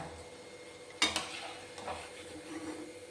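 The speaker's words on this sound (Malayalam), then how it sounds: "ഇനി നമുക്കിത് എണ്ണയിൽ നിന്നും കോരുമാറ്റാം" Fried cauliflower snack lifted out of hot oil with a metal scoop: one sharp clink against the pan, then a faint, quiet sizzle with light scraping.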